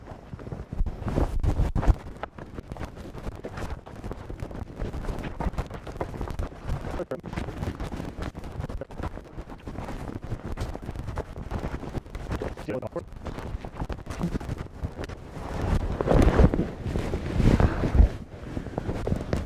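Steady outdoor wind buffeting and rumbling across a microphone in a wooded survival camp, with gusts swelling near the end and occasional rustles, no voices.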